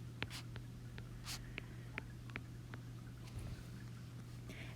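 Marker or chalk strokes tap and scratch on a board in short, sparse bursts while a math lesson is written out, faint against a steady low hum of room noise.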